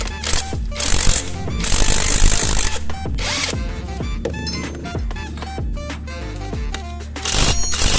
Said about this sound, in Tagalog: gamit tayo impact wrench